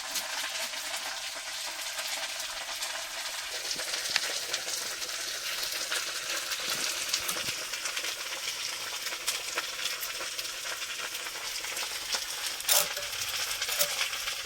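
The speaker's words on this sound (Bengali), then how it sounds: "আলু ভাজা হচ্ছে" Potatoes fry in a pan with a steady, dense sizzle that fills the whole stretch, with a few faint clinks from stirring.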